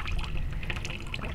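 Water pours into a hydroponic growing container after nutrients are added, a steady close liquid trickle and splash lasting the whole moment with no talk.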